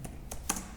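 Quiet clicks of typing on a computer keyboard, three light keystrokes spaced unevenly over less than a second.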